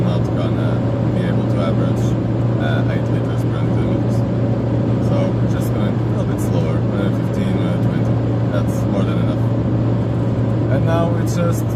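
Citroën XM cruising on a motorway at about 130 km/h, a loud, steady interior drone of engine, tyres and wind that fills the whole stretch without letup, with a person talking over it.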